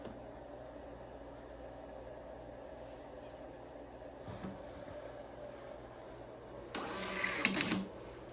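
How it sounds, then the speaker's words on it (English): A point-of-sale receipt printer runs a short printing burst near the end, a brief mechanical buzz over a low steady room hum, with quieter background noise before it. "we're gonna print the receipt"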